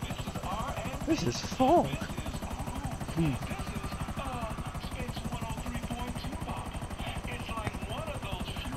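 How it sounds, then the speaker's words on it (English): A shipment helicopter in a video game drones with a steady rotor chop throughout, joined by brief bursts of game noise, while a person talks over it. "I wonder what happens if you blow up a shipment chopper."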